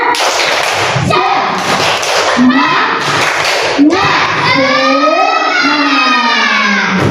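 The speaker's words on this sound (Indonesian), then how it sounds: "Oke, kita coba lagi. Tepuk semangat." A classroom of children does a rhythmic spirit clap with their teacher: loud group claps in a quick patterned beat, mixed with the class chanting and singing along in unison, then a long drawn-out sung cheer.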